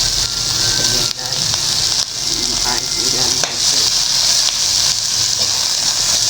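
Fish frying in hot oil, a steady loud sizzle and crackle that runs unbroken throughout, with small pops and faint scraping now and then. No one speaks over the frying.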